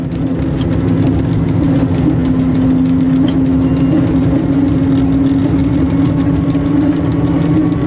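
A train on the single-track line from Sidi Kacem toward Tangier gathers speed, a steady loud engine drone with a strong low hum and constant rumble running unbroken throughout.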